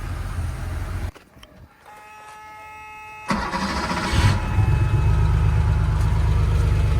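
Porsche 911 G-Model 3.2 Carrera cranking after 15 years standing, a brief starter whir and a pause, then the engine catches and settles into a loud, steady, deep rumbling idle close by, no talk.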